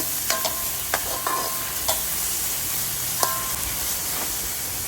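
Vegetables sauté with salt in a pan for a tomato curry, a steady close frying hiss broken by regular metallic taps and scrapes of a spoon stirring.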